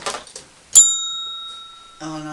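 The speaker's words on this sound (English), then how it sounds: "Ring that bell, Mary." A single bright bell ding rings out clearly and decays slowly, with voices talking briefly before and after it.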